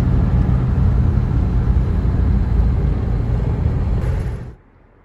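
A 1939 DeSoto Custom S6 Touring Sedan driving with a steady, loud engine and road rumble that holds for several seconds, then drops away abruptly to near quiet.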